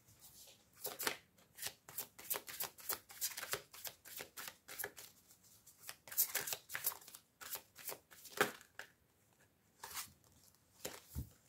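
Playing cards are shuffled by hand close up, making quick riffling, papery bursts in an uneven rhythm that come and go over several seconds, with no talking.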